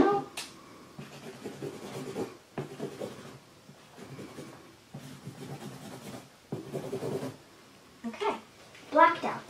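A marker scrubbing back and forth on paper to black out printed text, with repeated rubbing strokes in several bursts, close and moderately loud, and a person speaking briefly near the end.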